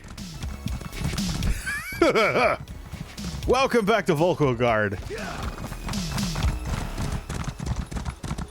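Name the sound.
horse hooves and neighing, video game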